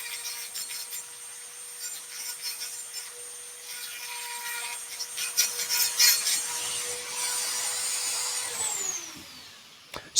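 A tungsten carbide burr cutter grinds metal with a high, whining, dentist-drill-like tone, held steady as the cutter bites, then spins down near the end with a falling pitch.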